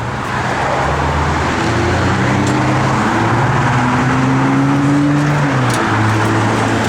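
A 1968 Chevrolet Chevelle with a 396 V8 runs on the road, a loud steady engine drone with rising and falling pitch as it revs and shifts, heard close and alone.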